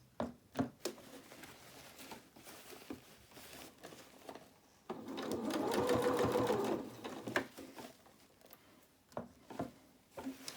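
A sewing machine runs in a steady burst for about two seconds while stitching a gathered doll dress, with light handling taps and fabric rustle before and after; no talking.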